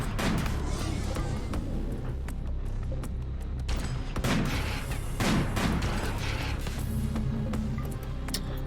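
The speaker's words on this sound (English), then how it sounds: "these anti-material rifles are so much better killing fleshless" Anti-materiel rifle fire in the colony game RimWorld, a steady barrage of sharp cracking shots at irregular intervals over a constant dense background of game noise.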